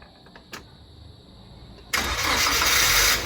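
A Toyota LiteAce that had been cranking only fires up after a faint starter click, catching into a steady loud engine idle that holds to the end, close by with no talk over it.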